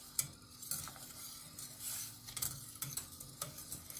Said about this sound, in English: you would want to add the flour really slowly and mix it while you're doing it